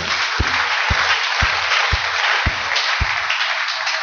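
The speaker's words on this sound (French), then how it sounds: "Applaudissons fort le Seigneur." A congregation applauding at a church service, a continuous wash of clapping with a regular low thump about every half second beneath it.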